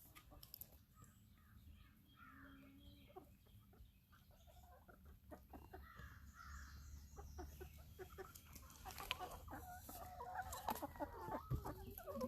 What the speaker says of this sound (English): This week they actually are starting to sound like roosters.